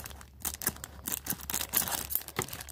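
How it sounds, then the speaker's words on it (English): Scissors struggle against a plastic package, giving a series of faint, irregular snips, crinkles and tearing scrapes spread through the moment. "Yeah, these scissors aren't wanting to cut."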